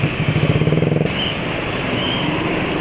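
A motorcycle engine with its air filter removed runs loudly with a raw, throaty pulse, a quick rhythmic chugging at first that settles into a steady, gruff drone.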